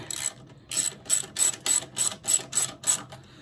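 A ratchet tightening a bolt on the center stand of a vintage Honda CL350 motorcycle, making about nine evenly spaced bursts of close, crisp clicking, each a short pull of the handle, with no talking.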